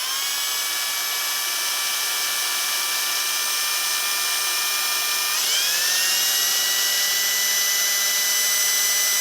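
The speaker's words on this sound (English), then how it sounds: "I'm going to drill out the mounting hole." A steady, high-pitched power drill whines continuously while drilling out a mounting hole on a stereo power amplifier, its pitch briefly dipping and rising again midway as it bites into material.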